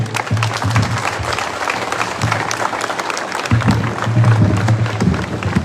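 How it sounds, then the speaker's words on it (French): Students at a school-year opening ceremony at a college in Goma clap steadily for a reading, a dense, continuous round of applause with a low hum running underneath. "Quelle belle lecture, on devrait applaudir ça, chers élèves."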